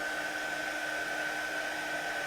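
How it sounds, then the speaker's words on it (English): A heat gun blows a steady, even whoosh with a thin whine running through it, held constant and close while embossing powder melts on a handmade card. "we're going to heat this up. So again, just using my heat gun"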